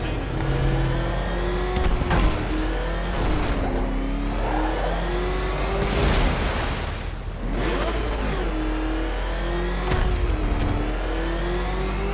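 A ramshackle car motor revs in Batman: Arkham Knight, its loud engine note rising and falling through repeated throttle swells over a steady drone for about twelve seconds, with no talking.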